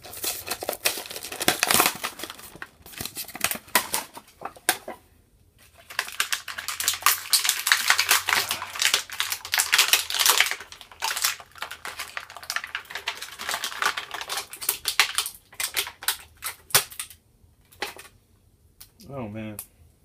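Plastic packaging of a Marvel Infinite Series Deathlok action figure being torn and crinkled open, close and busy, with dense ripping and crackling bursts across the stretch and a short pause midway.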